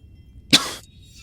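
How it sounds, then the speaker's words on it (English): A single sharp cough bursts out near and loud, part of a video game character's voice, lasting about a quarter second before trailing off into a quiet background. "Sorry, I think I've still got some spice stuck in my throat."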